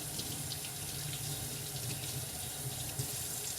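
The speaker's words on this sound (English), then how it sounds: "Give that a little rinse." Steady tap water runs into a kitchen sink while a dirty spoon is rinsed, a continuous close splashing rush with small clinks of the utensil.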